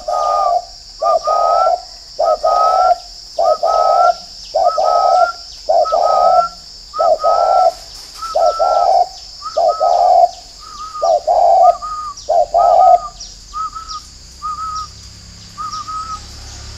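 Captive spotted doves kept for breeding give loud, close coos in a steady rhythm, about a dozen evenly spaced phrases that fade slightly toward the end, with no talking.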